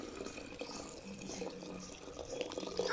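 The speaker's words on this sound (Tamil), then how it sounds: "இப்ப 200 பால் சேர்த்துக்கிறேன்" Milk, about 200 of it, poured into water already boiling on a stove in a home kitchen, a steady liquid pouring and bubbling sound at moderate level with faint background noise.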